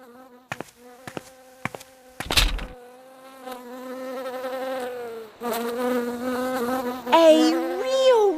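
A bee buzzes in a children's story about a king and a bee, starting with a few sharp taps and then a sustained, close, wavering drone that swells and bends in pitch.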